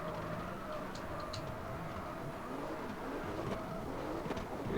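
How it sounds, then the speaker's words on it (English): Odd-sounding car engine in the racing game CarX Drift Racing Online 2, a steady low droning hum with wavering pitch held at a constant moderate level throughout, with no voices over it. "This car's engine sounds very weird."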